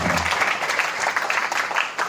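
An audience at a pesantren parenting talk show applauds for Kaila, a lively, fairly close wash of clapping hands that rises and dips slightly in intensity over a couple of seconds.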